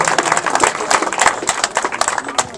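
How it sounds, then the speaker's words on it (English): An audience at a Tucson Tea Party gathering applauds speaker Jeff Prather with steady, close, dense clapping throughout a short stretch. "I want you to give a big round of applause to Jeff Prather"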